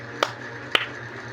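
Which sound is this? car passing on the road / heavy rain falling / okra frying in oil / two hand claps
two hand claps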